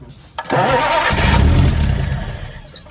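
A 1940 Mercedes 320 barn-find car, its engine cranking loudly and close as it tries to start, a sustained churning run that gradually fades toward the end without catching.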